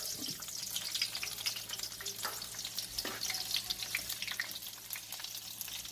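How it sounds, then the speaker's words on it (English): Fish fries in oil seasoned with garlic and pepper, a steady sizzle with crackling oil, fairly close and continuous, no voices. "then I'm going to start by frying it."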